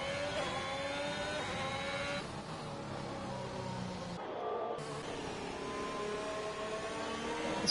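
A Formula 1 race car in a video game rounding the final bend at the Hungary circuit: steady high-pitched engine whine with rising and falling revs through gear changes, loud and continuous throughout.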